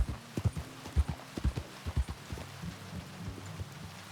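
Hooves clip-clop from a single horse in Red Dead Redemption 2, a steady walking rhythm of close, distinct thuds that softens and slows toward the end, with no speech over it.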